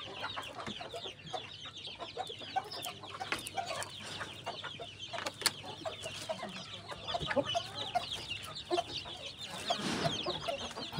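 Chickens cluck and chatter continuously nearby, with short sharp calls from a Heera breed rooster among the hens.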